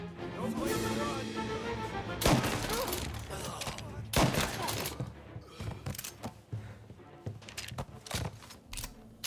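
Rapid bursts of gunfire in the video game Mafia: Definitive Edition, loud and dense with sharp cracks clustered through the action, some heavier shots standing out, with a voice shouting over the firefight.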